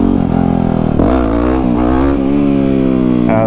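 A Yamaha WR250X motorcycle engine revs hard as the rider pulls a wheelie, rising and falling in pitch through several close, loud throttle bursts.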